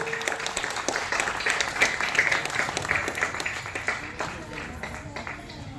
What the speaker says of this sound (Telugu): ఇంకా గట్టి చప్పట్లు రావాలి.